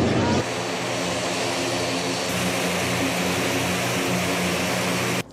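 A CASA 295 military twin-turboprop transport aircraft drones steadily and loudly throughout, a continuous propeller hum with a sustained low tonal throb that cuts off abruptly at the end.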